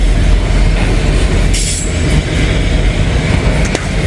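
A BNSF freight train rolls past close by on a spring day, a loud continuous roar of wheels on rails with a brief high squeal partway through.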